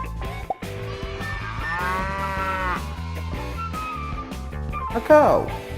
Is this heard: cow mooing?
yes